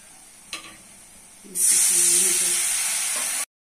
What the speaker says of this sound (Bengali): তেল গরম হয়ে গেছে, দিচ্ছি পেঁয়াজ কুচি, লাল হয়ে গেছে দিচ্ছি মশলা